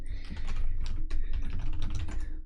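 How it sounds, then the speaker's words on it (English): Fast, steady typing on a computer keyboard, close and clear, with rapid key clicks in an uneven rhythm and no talking. "Sorry, just typing in my Amazon chat as well."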